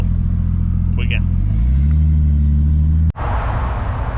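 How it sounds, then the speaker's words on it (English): A wagon engine on a basic base tune idles with a deep rumble, then the revs rise and hold before a sharp cut and louder roar, with a voice briefly over it. "We got Alan to just chuck in a little base map to idle and rev a little bit"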